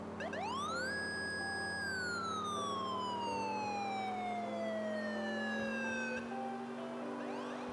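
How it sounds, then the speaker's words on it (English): A police car siren in GTA 4 with the LCPDFR mod rises quickly and holds one long, loud, steady wail that slowly falls away, close and continuous with no talking. "I love just the one long wail that we can do with that the one siren"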